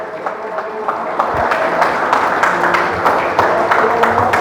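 Church congregation applauding together during a service, a steady dense wash of clapping that holds loud and even throughout.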